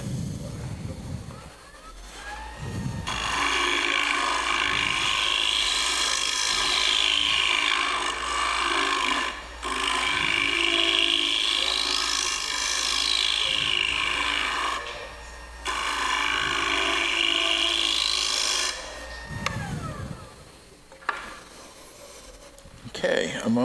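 A power tool grinds and rubs along the rim of a wooden bowl in long, loud passes of a few seconds each, broken by short pauses, with a faint background hum between bursts.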